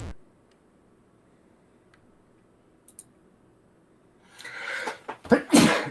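A sneeze bursts out near the end, loud and close, after a short click and some breathy noise, during a quiet live-streamed game session.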